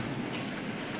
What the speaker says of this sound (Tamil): சென்னையில் லைட்டாக மழை வேறு பெஞ்சிட்ருக்குது.